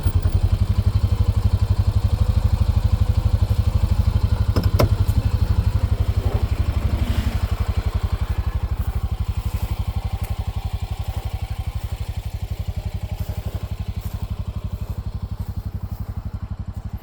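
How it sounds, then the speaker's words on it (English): A Honda Pioneer 700 Deluxe utility vehicle engine runs in a sandy backyard, giving a steady, close, loud low rumble that barely changes throughout and has no talk over it. "Honda Pioneer 700 Deluxe."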